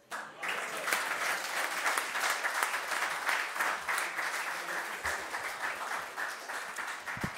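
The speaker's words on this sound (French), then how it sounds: "les applaudir bien fort" Warm applause for a children's council at a district council meeting, a steady crowd clapping that starts abruptly and continues evenly with slight swells throughout.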